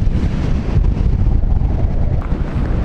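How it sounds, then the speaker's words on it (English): Strong wind buffets the microphone high in the mountains near the Argentina–Chile border, a steady loud roar and rumble that persists throughout without letup. "Whew, it's so windy."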